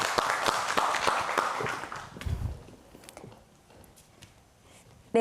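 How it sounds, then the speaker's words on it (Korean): An audience claps in a burst of applause before an oral health lecture at a community event; the dense clapping lasts about two seconds, then quickly thins out into scattered claps and quiet room noise. "그러면 박수와 함께 좋은 말씀 듣도록 하겠습니다. 여러분 박수 주십시오."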